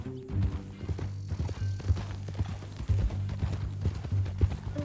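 Horse hooves clip-clop in an irregular walking rhythm in the video game Red Dead Redemption 2, close and moderately loud over a low background hum.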